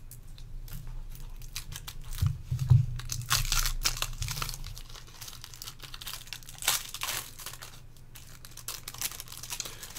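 The cellophane wrapper of a 1964 Topps Beatles card pack crinkles and tears softly as it is opened, in quiet intermittent crackling bursts up close.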